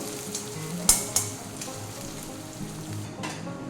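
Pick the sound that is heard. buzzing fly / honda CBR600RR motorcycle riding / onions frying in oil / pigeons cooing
onions frying in oil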